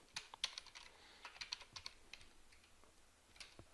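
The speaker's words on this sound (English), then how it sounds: "I can double click here and type in construction line" Quiet clicks of typing on a computer keyboard, a few scattered keystrokes and short rapid runs, close and faint with nothing else in the background.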